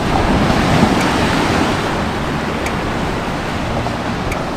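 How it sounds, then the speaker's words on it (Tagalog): Strong ocean waves surging at a rocky shore in Bolinao, Pangasinan, a loud, continuous wash of surf with heavy wind rumbling on the microphone, strongest at the start and settling slightly after. "Hindi ako makalubog dun, no? Kasi lakas nga ng alon."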